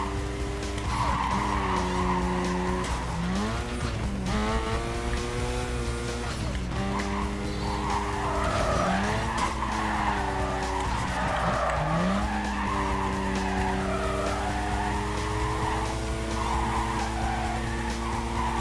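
Car racing in Need for Speed Carbon, the engine repeatedly revving up through rising gear sweeps under a nitrous boost, with tire squeal and steady road noise throughout.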